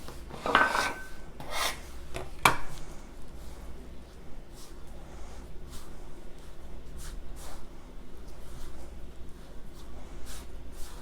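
A dough scraper works a batch of fritter dough on a counter, giving a few brief, close raspy scrapes in the first seconds before things go quieter, with only faint handling noise after.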